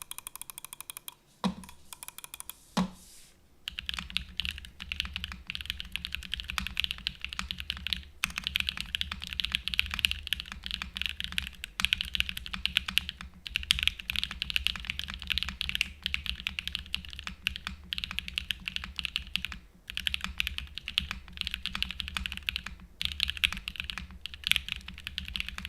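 Loud, continuous typing on a computer keyboard, with dense rapid key clacks running nearly the whole time after a brief pause and a couple of louder thumps at the start.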